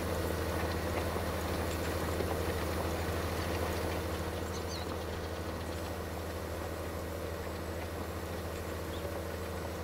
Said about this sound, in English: you guys can just hear the engine roar and the implement going